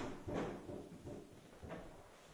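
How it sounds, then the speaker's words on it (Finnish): Doors swing open with a muffled rumbling creak, a swelling heavy shove followed by a quieter second movement, faint and somewhat distant. "ovet avautuvat"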